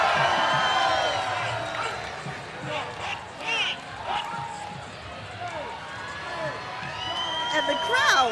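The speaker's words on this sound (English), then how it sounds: "And the crowd is going wild." A St. Patrick's Day parade crowd cheers and whoops in a steady wash of noise, with a commentator talking over it throughout.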